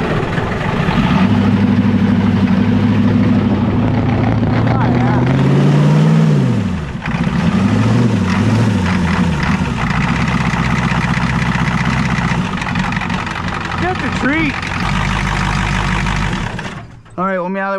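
An old Ford engine runs at a steady, rumbling idle right after starting, loud and close, with its tone shifting partway through and a brief dip near the end.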